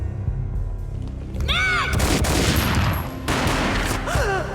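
Gunfire in the PS2 shooter Max Payne, loud dense bursts with booming impacts that rise twice, mixed with game effects and a brief voice-like sweep.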